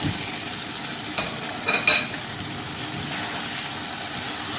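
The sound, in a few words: fried kebabs added and stirred into thickening gravy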